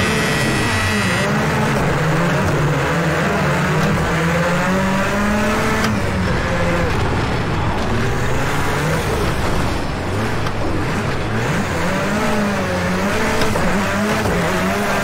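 A race car in the iRacing simulator at Summit Point circuit drives hard. Its loud engine rises and falls continuously through gear changes, with occasional tire squeal as the car slides sideways.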